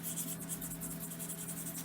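Charcoal scrapes across toothy Fabriano paper while shading around the outline of a drawn winged horse, making close, rhythmic, dry scratching strokes with nothing else heard.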